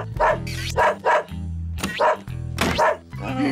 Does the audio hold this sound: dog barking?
yes